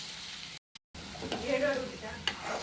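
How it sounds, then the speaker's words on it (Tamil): Pirandai (adamant creeper) stirred and sautéed in a hot pan until golden for thuvaiyal, giving a steady close sizzle with scraping stirs of a spoon and a brief silent break. "நல்ல பொன்னிறமாக வதங்கின பிறகு இன்னும் வதங்கணும்."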